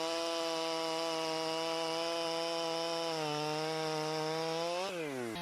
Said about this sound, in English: The Stihl MS 500 at launch edition revolutionizes logging in the Italian Alps.